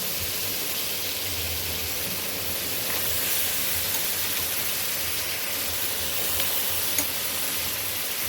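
Vegetables tipped into hot spiced oil while cooking a Bengali dish of brinjal and taro, giving a steady, even sizzle and hiss that holds close and unbroken throughout, with no voices over it.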